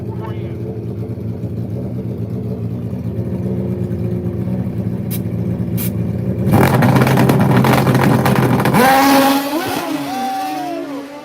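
Drag bikes rumble at the staging line of a dragway, a nitrous-style bike called Kill Bill and a Suzuki Busa, then launch in a loud ripping roar that fades away, with crowd and announcer noise underneath.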